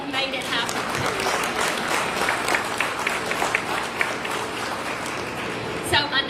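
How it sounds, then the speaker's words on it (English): A crowd at a food bank ribbon cutting in Batesville, Mississippi, claps loudly and continuously for the staff, a dense wash of applause with a few voices mixed in. "just give a real loud applause to our staff."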